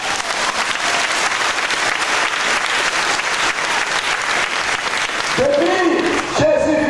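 A church congregation at an evangelical worship service in Haiti claps and cheers loudly and steadily, with a voice breaking in near the end.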